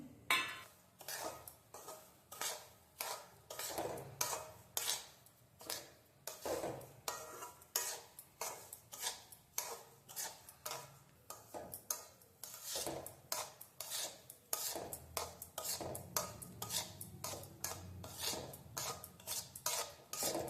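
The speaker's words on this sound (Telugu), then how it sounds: "నెయ్యి అంతా కరిగిపోయిన తర్వాత ఈ రవ్వను వేసుకొని బాగా వేయించుకోవాలి" Semolina roasts in melted ghee and sugar for rava laddu, a spoon scraping and stirring against the pan in rapid, repeated rhythmic strokes, close and fairly quiet, with no voices.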